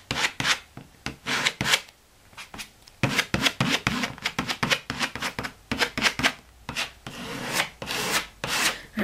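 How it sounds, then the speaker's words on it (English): Paint scraper dragging paint across a canvas in an abstract painting, giving repeated short rasping scrapes in quick irregular strokes, close and fairly loud, with brief pauses and no talking. "I'm going to put some on with the scraper, especially, up here at the top"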